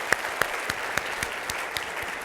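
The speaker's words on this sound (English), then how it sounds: "Can we all give him a round of applause one more time for putting this together?" An indoor audience at a management talk claps, giving a short, even patter of hands with a few sharper individual claps standing out at regular intervals.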